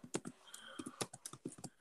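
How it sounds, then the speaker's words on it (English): Rapid clicking of computer keys, a burst of uneven keystrokes close by with brief pauses, alone with no voices. "I'm gonna wait one sec just till you're done typing"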